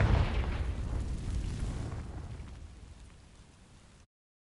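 A Confringo fire spell blasting dry vines in Hogwarts Legacy, a single heavy whooshing burst that opens loud and then crackles and fades away over about four seconds.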